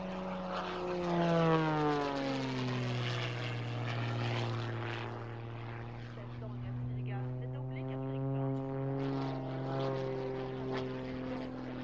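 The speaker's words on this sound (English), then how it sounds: "This stunt plane heading straight towards the ground." A white-liveried stunt plane dives toward the ground, its propeller engine giving a steady, droning roar whose pitch bends and shifts throughout, with the note rising and falling in smooth sweeps.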